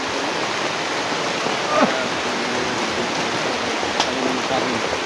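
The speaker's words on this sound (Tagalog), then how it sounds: "Basa na tayo sa ulan." Steady rain pours outdoors as a dense, even hiss throughout, with a few faint knocks and a brief voice in the background.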